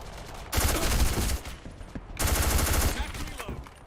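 Automatic weapon fire in the online shooter Black Squad, two loud sustained bursts of rapid shots separated by a brief lull and followed by scattered quieter clicks.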